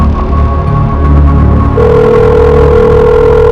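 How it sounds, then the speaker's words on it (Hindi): A telephone call is placed on speakerphone. A steady, loud electronic ringing tone begins partway through and holds to the end, following a stretch of tonal background sound. "उसको फोन करो, स्पीकर पे डालो"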